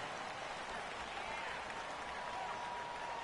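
Home-field stadium crowd in an American football video game on PS4, a constant loud roar of noise swelling slightly in places, with no clear voices standing out.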